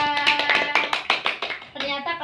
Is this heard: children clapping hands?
yes